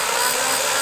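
A rebuilt twenty-year-old Warn high mount winch spools in cable with a steady, loud, high-pitched mechanical whine and hiss, constant and close, with no voices.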